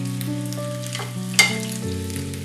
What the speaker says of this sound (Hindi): और थोड़े स्लो फ्लेम में हम इसको फ्राई करेंगे।